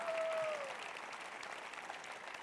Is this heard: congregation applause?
yes